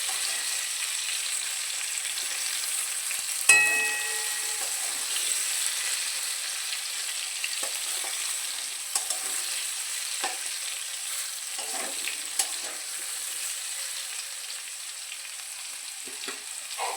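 Spice paste and reddened fried potatoes sizzle steadily in a pan for a jackfruit and prawn curry, with a sharp clatter early on and occasional stirring scrapes over the soft, continuous frying hiss.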